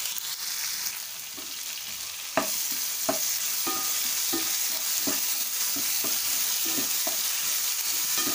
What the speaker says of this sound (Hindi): हम इसे थोड़ी देर भून लेंगे अच्छे से